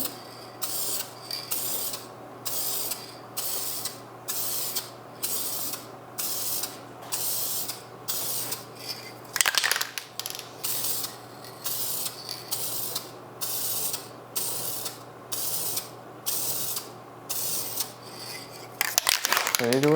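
Rattle-can spray paint hisses in repeated bursts about a second long with brief pauses between them while a car part is coated during a rebuild, fairly close, with faint mechanical clatter.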